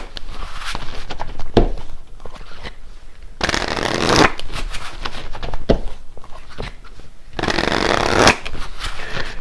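Tarot cards are shuffled by hand in close, crisp bursts of riffling and flicking, with three louder stretches separated by quieter handling and light taps.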